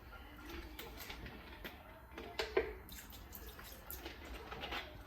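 Oxtail is rinsed off with running water and a splash of lime juice, a soft, faint trickle and splashing of water with a few small drips and louder splashes, fairly quiet and close.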